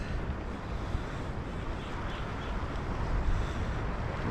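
From a small boat during solo fishing off La Union in the Philippines, sea waves wash in a constant broadband rush, mixed with heavy wind buffeting against the microphone and no one talking.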